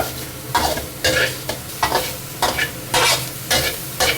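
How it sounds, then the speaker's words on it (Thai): Bacon sizzles and spits in a hot pan with no added oil, punctuated by a rhythmic series of scraping stirs, about eight in quick succession, close and loud. "ตั้งกระทะให้ร้อนฮะ แล้วก็ไม่ต้องใส่น้ำมันอะไรนะ เพราะเบคอนมีน้ำมันในตัวอยู่แล้ว"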